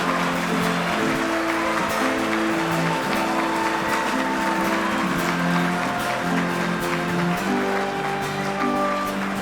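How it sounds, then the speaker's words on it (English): Sustained applause from an audience at a school passing-out ceremony, steady dense clapping for about nine seconds with a faint held musical tone underneath. "give a big round of applause to our musicians"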